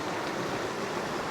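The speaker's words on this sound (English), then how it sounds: "A little waterfall, beautiful sounds." A small creek pours over a little waterfall, a steady, close, broadband rush of flowing water that stays even throughout, with no voices.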